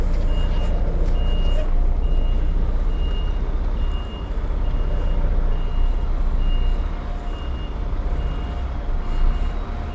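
A truck reversing a trailer into a loading bay: steady, regularly spaced reversing beeps over a loud, continuous diesel engine rumble, close by.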